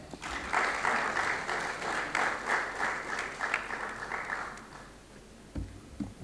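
Applause from the audience at a regional conference closing session marking the ECOWAS fiftieth anniversary, steady clapping for several seconds that fades out, followed by a couple of brief thumps.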